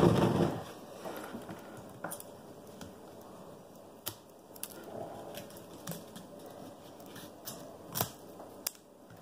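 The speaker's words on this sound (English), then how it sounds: "You can use prunes, or I'm just using regular scissors." Scattered sharp snips of regular scissors cutting through pineapple plant leaves, irregular and close, with soft rustling between cuts and no talking.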